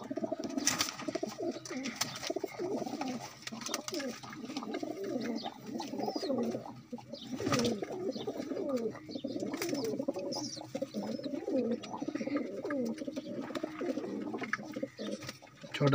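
Pigeons coo in low, repeated rolling phrases close by as the birds are held in the hand, with occasional soft rustles and a few sharp handling clicks between calls.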